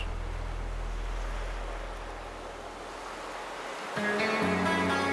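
Ocean waves wash as a steady broad roar with low rumble in a song, swelling and ebbing before music cuts in at the end.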